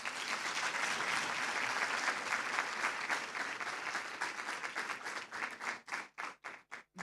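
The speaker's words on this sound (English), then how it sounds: "Another warm round of applause." An audience at a Human Rights Day dialogue event gives a warm round of applause, dense steady clapping that thins into scattered individual claps near the end.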